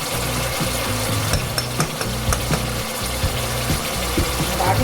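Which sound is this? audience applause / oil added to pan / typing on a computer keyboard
oil added to pan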